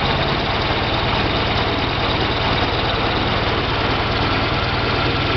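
The engine of a 1938 Viking Standard Twin cart runs steadily with a little throttle applied, giving a loud, close, continuous putter with a rhythmic low pulsing and no pauses.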